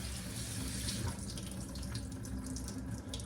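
Tap water runs steadily into a sink, splashing and gurgling as it rinses rice in a basin.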